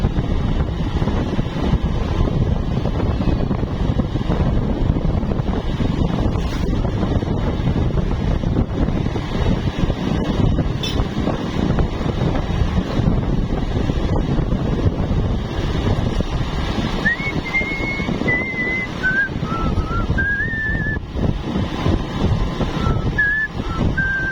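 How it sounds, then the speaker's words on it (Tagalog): Loud, constant wind buffeting a microphone, rumbling and roaring throughout, with a faint high whistling tone near the end. "Ito mga hangin."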